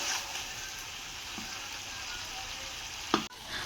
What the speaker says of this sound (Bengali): মাংসটাকে সুন্দরভাবে কষিয়ে নেওয়া হচ্ছে